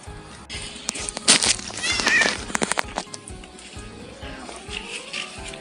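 A house cat meows several times in short, sharp calls, close and fairly loud, over soft indoor background noise.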